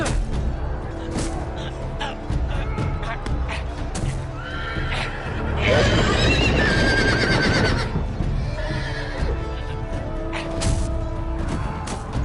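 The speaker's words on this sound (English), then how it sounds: "Un caballo." A horse neighs loudly in the Game of Thrones video game, a shrill whinny rising out of a busy mix of hoofbeats, crashes and battle noise.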